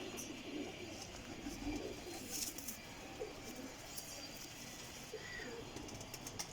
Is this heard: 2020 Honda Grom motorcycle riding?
no